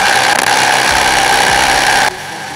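A Ryobi RSDS18X cordless hammer drill bores with a 25 mm bit, giving a loud, steady hammering drone. It stops abruptly near the end, leaving a quieter hum.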